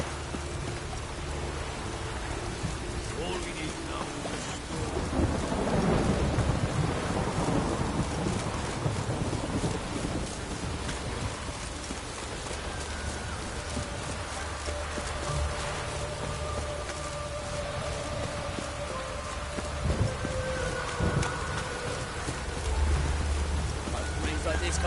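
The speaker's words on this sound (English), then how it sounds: "A storm, damn it." Steady rain pours down through a video-game thunderstorm, a dense hiss with distant rumbles, while voices speak faintly underneath.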